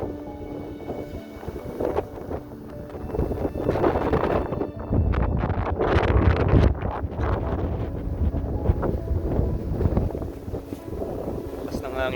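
Strong wind gusts outdoors on an autumn day in a Canadian city, buffeting the microphone in a loud, steady roar that swells and eases.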